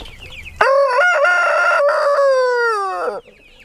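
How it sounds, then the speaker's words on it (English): A large, handsome homestead rooster crows once, loud and close, a long drawn-out cock-a-doodle-doo lasting about two and a half seconds before cutting off, with no talking over it. "That is the biggest and prettiest rooster we have."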